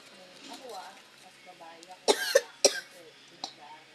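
A few sharp coughs in quick succession, close and loud, following a stretch of quiet talking.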